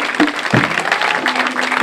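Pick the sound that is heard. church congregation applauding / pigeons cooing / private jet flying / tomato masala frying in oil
church congregation applauding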